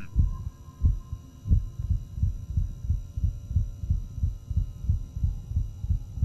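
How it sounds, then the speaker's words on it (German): Heartbeat in the video game Inside the Backrooms, a loud close double-thump pulsing steadily about once every half second over a constant low electrical hum, with no talking. "Wird der Herzschlag schneller oder lauter?"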